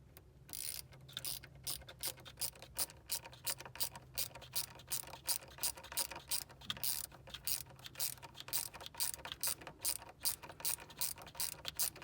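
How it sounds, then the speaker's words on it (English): A screw on an IAC or TPS sensor is tightened with a ratchet, giving a long run of quick, close mechanical clicks in an irregular rhythm, fairly quiet with no speech. "Tighten it up till it gets snug."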